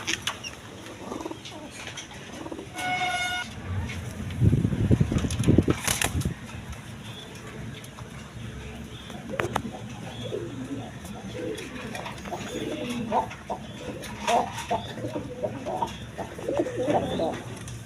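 Pigeons cooing at a farm stall where birds are sold, soft repeated coos mixed with flapping and shuffling, under a voice talking.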